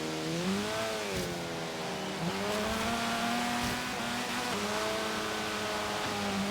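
Front-wheel drive race car in Forza Horizon 3, its engine droning steadily and loud with rising revs, a few gear-shift drops, and faint tire noise underneath.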